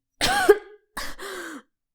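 Two short, harsh coughs sound close and loud, the second rougher and throatier like clearing the throat, separated by a brief silence.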